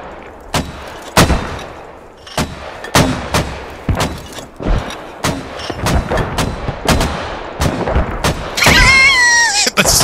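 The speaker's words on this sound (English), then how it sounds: "It sounds like an insurgent artillery strike." A mortar barrage in the game Squad sounds like an artillery strike: repeated heavy booms land one after another with rolling echoes, growing denser, and a high whistling whine comes in at the close.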